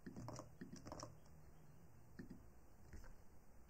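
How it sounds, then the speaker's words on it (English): Quiet computer keyboard typing, a short burst of soft clicks near the start, then a pause, then a few scattered keystrokes close to the mic. "So let's go ahead and type something in and try to generate a CSV."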